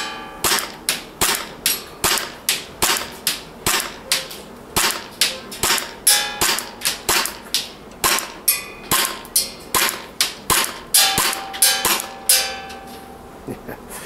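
A WE Galaxy G Series airsoft pistol fires BBs at a 30-metre range, about thirty sharp, snappy shots in a steady rhythm, loud and close, with a brief pause near the end.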